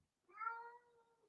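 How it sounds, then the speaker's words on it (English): A single drawn-out cat meow, clear and fairly close, rising then trailing off over about a second, with silence before it. "That's my cat Nala saying hi."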